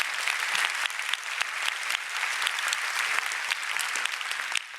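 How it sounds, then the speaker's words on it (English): Steady audience applause fills the room at a conference event, dense and even from start to finish with no voices rising above it. "so they deserve applause"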